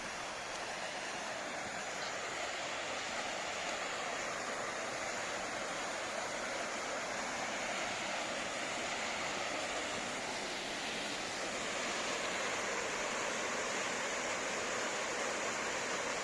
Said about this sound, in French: Un autre point de vue sur la cascade, la vue d'en bas.